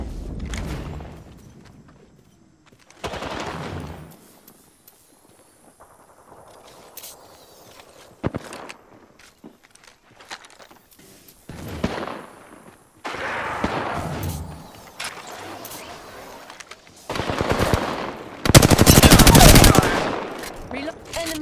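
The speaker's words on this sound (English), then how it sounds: "Opening fire." Gunfire in the Apex Legends video game: scattered bursts of automatic fire separated by quieter gaps with footsteps, growing louder toward the end, with occasional voice lines.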